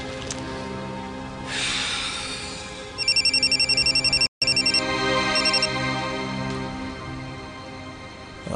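A phone rings with a rapid electronic trill in repeated bursts, loud and close, cut by a brief silence, over a steady indoor background in a Turkish drama scene.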